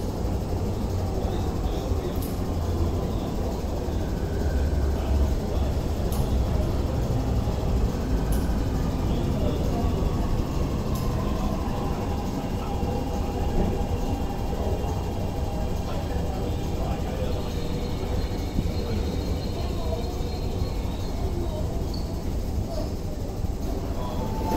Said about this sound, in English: The train to South Horizons is arriving.